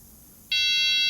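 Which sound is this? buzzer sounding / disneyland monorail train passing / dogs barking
buzzer sounding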